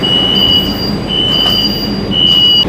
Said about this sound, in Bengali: ট্রেন ছাড়লো আমাদের